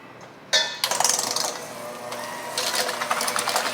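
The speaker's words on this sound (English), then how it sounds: "we're gonna just use our mixer to make a nice, beautiful filling" Electric mixer beating softened cream cheese for a cheesecake filling: a sudden switch-on, then a loud, steady whirring drone with rattling, close and continuous, no talk.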